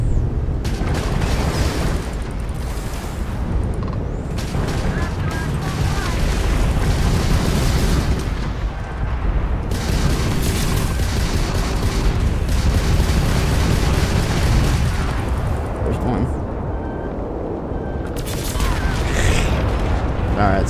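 Rocket explosions in the video game Starfield, a long stretch of loud overlapping booms and blasts with rumbling low end, continuous and dense with brief dips between bursts.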